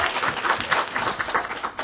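Audience applause breaks out at an event, a brief burst of dense clapping from many hands with no voices over it.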